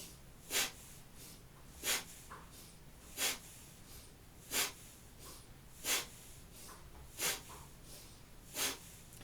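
Slow, steady breath cycles during a kundalini kriya, seven sharp nasal inhales and exhales at even intervals, close and fairly loud over a quiet low room hum, with no talking.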